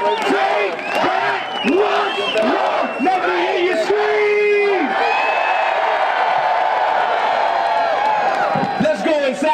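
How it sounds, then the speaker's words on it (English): A protest crowd in Lansing screams, yells and cheers together in a loud, continuous roar, with one long sustained shout rising above it before the noise settles into steady crowd clamor. "Let me hear you scream."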